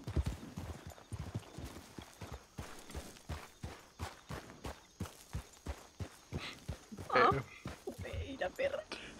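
Horse hooves clip-clopping at a steady walking pace in the Red Dead Redemption game world, with a neigh partway through and people talking over the rhythmic hoofbeats.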